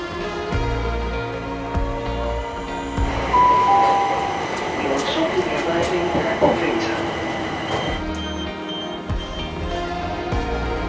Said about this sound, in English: So that train's leaving us on its trip into London.